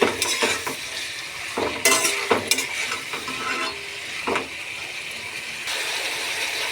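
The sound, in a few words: spice paste being stir-fried in oil in a kadai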